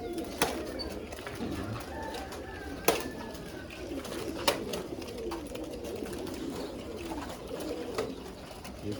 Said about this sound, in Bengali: এটা কিন্তু আপনার কবুতরগুলো আপনার দেশি কবুতর।